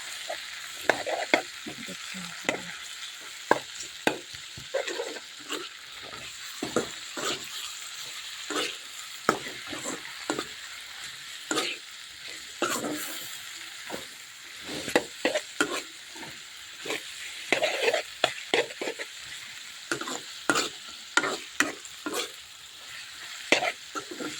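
Khorisa, fermented bamboo shoot, fries with pork in a pan over a gas flame turned up, giving a continuous close sizzle with frequent scraping stir strokes throughout.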